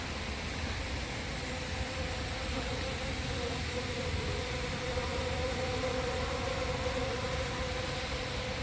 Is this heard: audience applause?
no